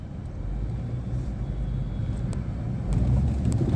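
A used car's engine revving on the road, a steady close low drone that builds slightly louder toward the end, with light wind buffeting over it.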